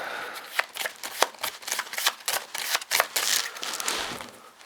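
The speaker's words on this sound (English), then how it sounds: "I can shuffle these back into the deck now." A deck of board game cards is shuffled briskly and close up, a rapid run of crisp riffling snaps and flicks with no talk over it.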